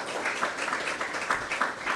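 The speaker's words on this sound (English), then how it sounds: "we will give a clap to that" An audience at a mayor's innovation kickoff event gives a sustained round of dense, even clapping at close range, with no voices over it.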